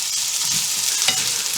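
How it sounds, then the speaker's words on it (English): Onions frying in a pan while making BBQ ribs, a close, steady crackling sizzle with a soft stir scraping partway through. "I'm frying off the onions now."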